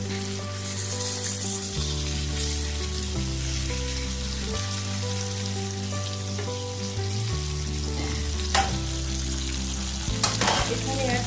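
Fish pieces fry in hot oil with a dense, continuous crackling sizzle, close and loud. Near the end a sharp clatter comes as a piece is flipped in the pan, with a steady low hum beneath.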